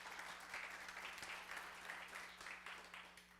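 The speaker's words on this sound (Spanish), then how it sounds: "demos un aplauso al Señor" A church congregation applauds in praise during a Spanish-language service, steady sustained clapping from many hands, faint and distant with a low electrical hum beneath it.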